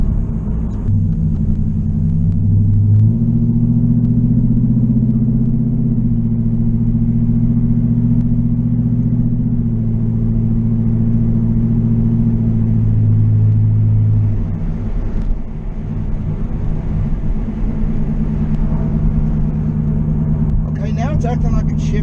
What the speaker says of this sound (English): we're gonna nail a perfect 1, 2 at wide open throttle